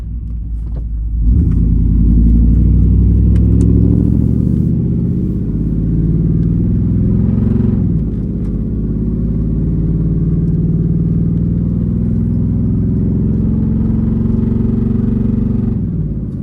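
An old truck with true dual exhaust accelerates close by, its deep, throaty engine rumble climbing steadily in pitch and holding loud and continuous with strong low-end drone.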